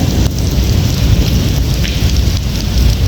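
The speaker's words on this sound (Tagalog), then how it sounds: "palakas ng ulan ngayon dito" Heavy rain pours down during a flood in the UAE, a dense, loud, continuous hiss and patter of drops on surfaces with low rumbling underneath, steady throughout and without talk.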